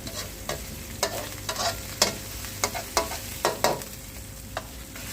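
Curry paste is stir-fried in a hot pan, with a steady sizzle under repeated scraping strokes of a spatula against the pan, close and moderately loud, with no talk.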